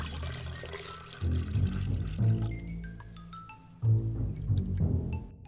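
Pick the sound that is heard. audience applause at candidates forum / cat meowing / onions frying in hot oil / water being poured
water being poured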